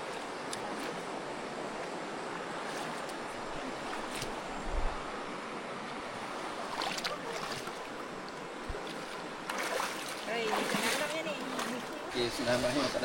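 Water splashes and sloshes as someone wades across a river, with rushing current and wind throughout and people talking intermittently.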